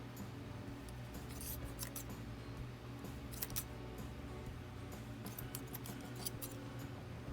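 Scissors snipping thread while trimming small craft bows, several quick metallic cuts at close range spread over a steady low hum, with no talking.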